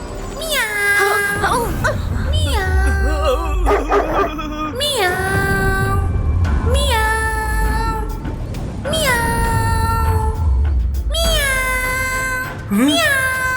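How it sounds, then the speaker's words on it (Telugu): A cat meows repeatedly, loud and near, in long drawn-out cries spaced a second or two apart over a low background hum. "క్యాట్ శబ్దం ఎక్కడి నుంచి వస్తోంది?"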